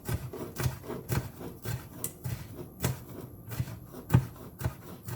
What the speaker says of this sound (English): I'm no one's chef, so I know how I'm butchering these vegetables